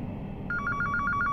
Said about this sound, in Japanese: 電話どこにあったっけ。